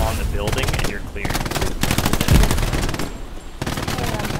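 Loud, close automatic gunfire in the World War II shooter Hell Let Loose: rapid machine-gun bursts with brief pauses between them, plus a heavier thud midway.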